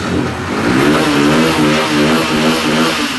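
A second-hand, self-start motorcycle engine revs steadily and loudly up close, its throaty rumble rising and falling in continuous bursts with no voices.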